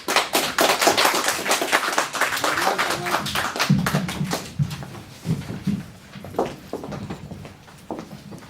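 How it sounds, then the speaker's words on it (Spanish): A Spanish-speaking Baptist church congregation claps for a visiting preacher, loud dense applause at first that thins into scattered claps and a few voices before dying away. "Démosle un aplauso."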